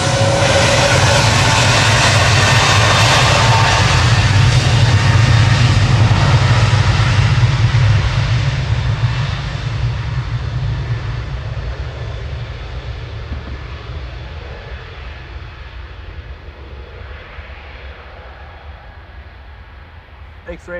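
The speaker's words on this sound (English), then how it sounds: "Turkish departing first though, heading back to Istanbul now" A Turkish Airlines jet departs Manchester Airport, its engines a loud broad roar that peaks early and then gradually fades into the distance, with a voice talking over it at times.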